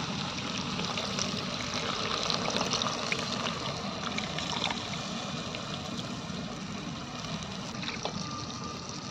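Tamarind water pouring into a pan of paarai fish curry with onion and tomato, a steady broadband liquid wash running close and loud throughout with no talk.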